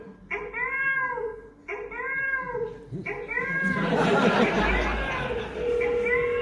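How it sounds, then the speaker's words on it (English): A cat meows three times in clear, drawn-out calls at a cinema screening, and then crowd noise and chatter swell over it. A final meow comes through at the end. "I like the meowy cat sound."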